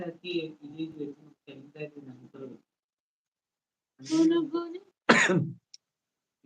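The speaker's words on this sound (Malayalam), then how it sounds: "ഇക്ക നല്ല ചുമയുണ്ട്" A person coughs a few times, close and fairly loud, after a stretch of quiet talking and a short pause.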